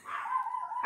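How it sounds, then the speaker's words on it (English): A dog outdoors gives one drawn-out yelp-like bark followed by a short second yip, moderately close and alone, with no voices. "They always come up with some barking at some point."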